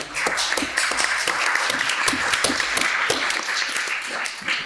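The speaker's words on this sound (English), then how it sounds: "Never had so much applause at one of these things before." An audience at a UK economy and public services event applauds, a broad wash of many hands with distinct individual claps standing out, sustained and fairly loud before tapering slightly at the end.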